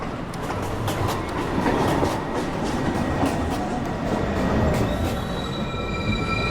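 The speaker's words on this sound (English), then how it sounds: "Downtown local 1 train approaching the station." A downtown local 1 subway train pulls into the 207 St station on 7th Avenue, loud and close, with rumbling wheels, clattering rail joints and high squealing as it approaches, no speech.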